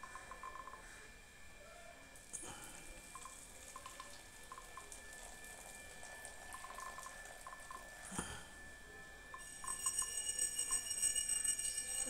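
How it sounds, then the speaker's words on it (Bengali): Milk pours into a bowl as a faint, close trickle, with a few soft clinks before the stream grows slightly louder near the end. "এই যে দিয়ে দিচ্ছি দুধ এর ভিতর"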